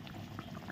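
Rezala gravy for rohu fish bubbling at a steady simmer in a pan, a soft continuous burble with small pops, close and fairly quiet, no voices.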